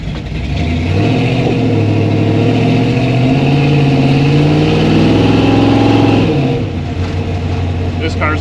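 The engine of a 1964 Chevy II revs loudly and roughly up close, rising and holding, then dropping back toward a lumpy idle, with faint voices in the background.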